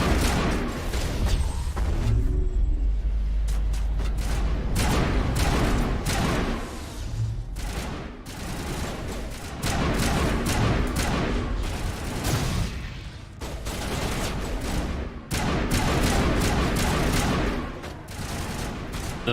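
Heavy gun firing in the video game Mass Effect: dense, loud bursts of booming shots and rapid volleys recurring throughout, with deep thuds, heard alone without talk.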